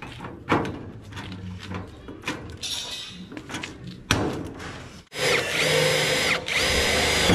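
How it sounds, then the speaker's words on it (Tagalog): A power drill fitted with a drill bit bores into a stainless steel box-type gutter being joined with blind rivets, giving several short whirring bursts followed by a longer sustained high drilling whine close by. "dito uumpisahan niya na rin pong pagdugtong po yung gutter natin gamit yung drill bit at saka"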